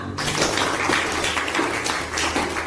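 A class of schoolchildren claps together in a classroom, a dense, even patter of many small hands sustained over a low steady hum, with no clear talking on top.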